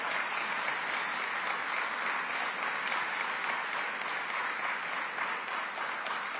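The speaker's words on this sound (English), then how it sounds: "Let's give our mayor a round of applause." An audience applauds the mayor at a New York state event, a steady, dense wash of many hands clapping that holds evenly throughout with no talking over it.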